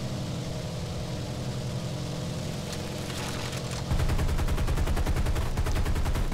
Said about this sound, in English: I was only firing with the lower turret.